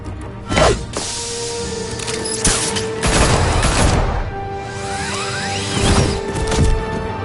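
Bursts of gunfire aimed at Batman in Batman: The Telltale Series, several loud volleys with heavy thuds and crashes spread across the scene, no talk.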